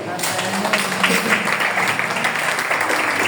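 A church congregation claps and cheers in praise during a worship service, a dense wash of applause with voices mixed in, loud and sustained throughout.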